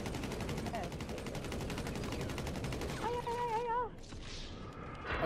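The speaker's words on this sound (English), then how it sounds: "Okay, I put some bullets into him." Rapid bursts of gunfire in GTA V crackle continuously in the foreground, followed by a short warbling electronic tone and a fainter tail of game noise.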